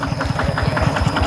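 A new tractor engine idles close by with a steady, rapid knocking pulse, loud and even throughout the short stretch, with no talking over it.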